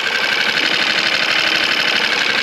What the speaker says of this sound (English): So the engine doesn't sound too bad right now